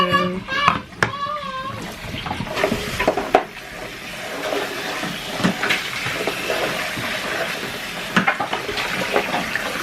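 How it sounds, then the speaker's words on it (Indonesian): Eggs being rinsed again in water while preparing garlic salted eggs, with splashing and trickling running under a child's and an adult's talk. "Kita bilas lagi telurnya."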